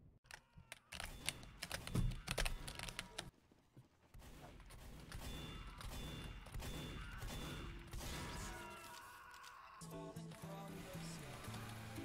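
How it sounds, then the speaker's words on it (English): Loud, hard computer keyboard clicking comes in rapid clattery bursts, close and prominent, with game sounds and faint voices underneath. "Why is your keyboard clicking so hard?"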